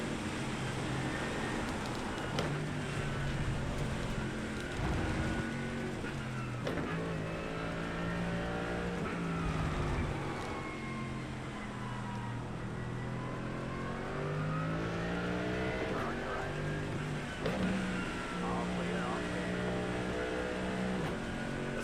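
A racing car engine in iRacing drones and revs steadily on the wet Algarve International Circuit, with a continuous mid-level whine that rises and falls as the car drives, and no voices over it.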